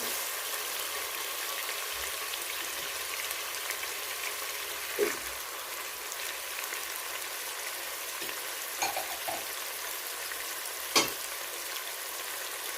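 Chicken sizzles and fries in a pot for chana pulao, a steady crackle of hot oil with a few louder scrapes of stirring.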